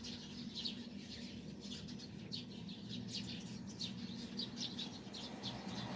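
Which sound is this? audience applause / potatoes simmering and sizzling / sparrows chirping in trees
sparrows chirping in trees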